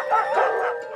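Sled huskies howl together before a ride, overlapping drawn-out wavering cries rising and falling close by, with no talking.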